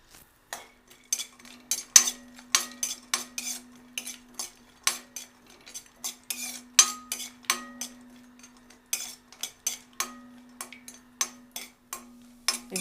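Cashews frying in hot ghee for carrot halwa, with a metal spoon scraping and clinking against the pan in a steady run of sharp, close taps over a faint continuous hum.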